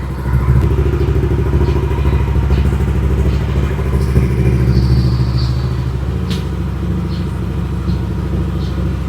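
A Yamaha NMAX V2 scooter idles after a coolant change, its engine giving a loud, steady, close-up chugging hum with faint clicks and no talking.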